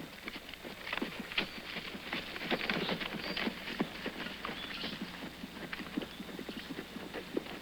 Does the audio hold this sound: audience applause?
no